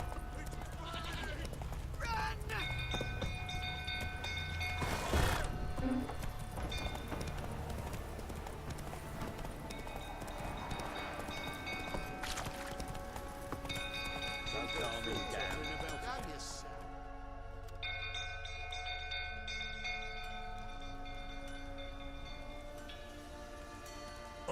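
A horse's hooves clip-clop in a steady trotting rhythm while ridden in the video game The Witcher 3: Wild Hunt, carrying through the whole stretch over ambient game sounds with faint background voices.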